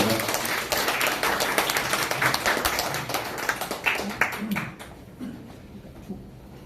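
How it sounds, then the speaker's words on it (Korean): Seminar audience applauding at the end of a lecture, a dense patter of many hands clapping that fades out after about five seconds, leaving a quiet room with a few scattered claps. "다시 한번 큰 박수 한 번 더 부탁드리겠습니다."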